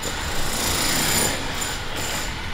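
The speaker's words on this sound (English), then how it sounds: "there's still construction and renovations till late in the evening" Jackhammer construction and renovation work continuing into the evening near a resort's reception area, heard as a loud, steady, unbroken rattling roar that fills the whole clip.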